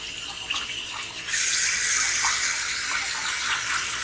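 Tap water runs steadily over fresh chhena cheese being rinsed of vinegar in a home kitchen, a close broadband gush that jumps louder partway through as the flow increases, with no talking.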